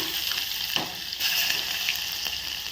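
Curry leaves and crushed garlic crackle and sizzle in hot oil in a pan, a close, continuous fizzing with small pops and a stir or two, no talking.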